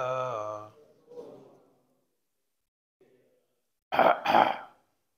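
Two harsh throat-clearing bursts close together near the end, after a stretch of talking and a long pause.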